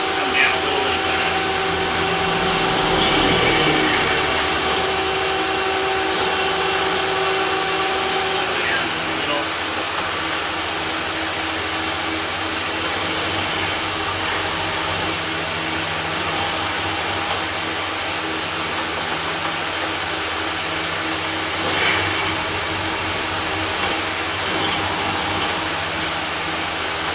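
A machine tool takes light cutting passes on a hardened metal part, giving a steady loud whirring drone with a faint tonal whine that fades partway through, while someone talks.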